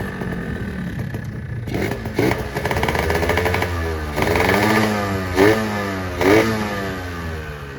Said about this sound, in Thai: สตาร์ทเช้าๆเครื่องเย็นๆพวกสองจังหวะอะไรพวกนี้ฮะ เครื่องนิ่งมาก